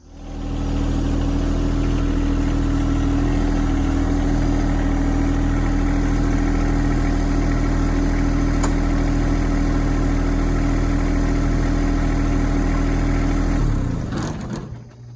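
A close, loud tractor engine idling with a steady low rumble and vibration, running evenly before cutting off near the end.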